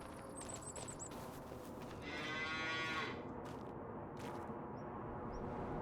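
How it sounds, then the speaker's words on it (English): Cows in the Farming Simulator 25 video game let out one clear, drawn-out moo at mid-volume over a constant farmyard ambience, with small squeaks and chirps around it. "have we got cows?"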